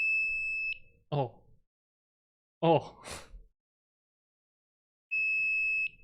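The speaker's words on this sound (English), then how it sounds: "It makes a really, really obnoxious beep." Shrill electronic beep from a circuit board device with its top open, a loud steady tone sounding twice with a gap between, while a person speaks briefly in the pause.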